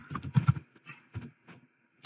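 Computer keys tap in short irregular bursts, a quick cluster of clicks followed by sparse single presses with quiet gaps, close and crisp.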